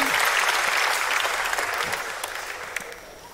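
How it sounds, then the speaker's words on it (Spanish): Strong audience applause from a live comedy show crowd, loud at first and gradually fading over a few seconds, with no talk over it. "Un fuerte aplauso para él."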